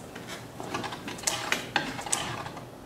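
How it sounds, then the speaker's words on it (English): A spinning wheel of fortune clicks and ratchets in a loose series of sharp mechanical ticks that land irregularly over a faint background. "Spin the wheel of fortune."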